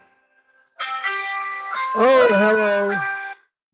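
A mobile phone rings with a bright, melodic tonal ringtone. It plays up close and clear for about two and a half seconds, with a brief spoken exclamation at the start.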